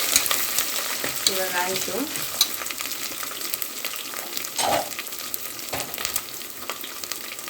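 Vegetable pulao ingredients sizzle and fry in a pan while a spoon stirs and scrapes them in uneven strokes. A short spoken remark comes in partway through.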